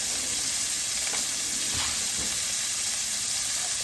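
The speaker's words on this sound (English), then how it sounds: "I'm going to drop in my onions and my fresh garlic." Onions and fresh garlic sizzle in a pan over heat just below medium, giving a loud, continuous hiss close up with a few faint stirring bumps.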